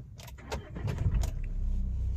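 A Mahindra Scorpio started with its push-button start-stop system: a few quick key-like clicks and a brief crank, then the engine catches and settles into a low steady idle, close and alone.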